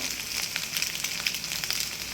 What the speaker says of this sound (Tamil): இப்போ பொரிக்கும்.